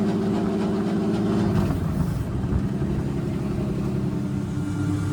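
A J35 FuelTech sand car engine idles and pulls away with a deep, steady rumble. The sound is close and loud, with a shift in tone partway through as the car gets moving.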